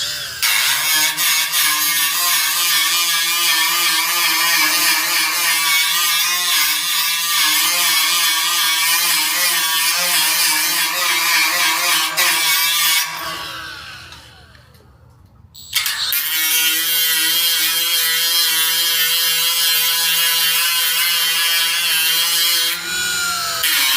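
Power grinder spinning a double-sided Roloc grit disc at about 10,000 rpm, grinding wide open: a loud, steady high-pitched whine with dense abrasive hiss, briefly dropping away mid-clip before the full grind resumes.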